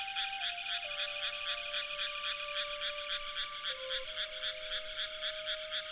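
Monkey frogs from South America call in a steady, rapid train of high clicking croaks, with a thin whistling tone running beneath, continuous and fairly faint.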